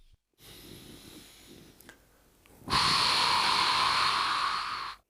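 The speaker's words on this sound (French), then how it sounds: "j'inspire. J'expire." Slow, deep breathing during a relaxation exercise for the lower back: a soft inhale at the start, then a long, loud, airy exhale lasting over two seconds, heard close and alone.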